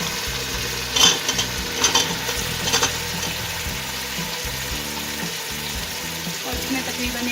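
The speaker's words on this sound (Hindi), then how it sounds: "अब मैं इसमें शलजम डाल दूंगी।" Turnips stirred into mutton frying in oil in a pressure cooker give a steady sizzle, with a few scraping knocks of the spoon against the pot early on.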